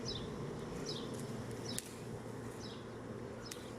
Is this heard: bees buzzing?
yes